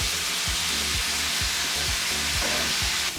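Chopped vegetables frying in oil over medium heat for a chicken spring roll filling, a loud, steady sizzle with rhythmic stirring scrapes about twice a second, no voices.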